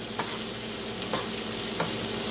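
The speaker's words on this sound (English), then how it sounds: "Drop that in there and stir it around." A utensil stirs food in a sizzling frying pan while cooking chicken piccata, with a steady frying hiss and a few soft scraping strokes, no voices.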